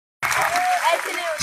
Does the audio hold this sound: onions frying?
no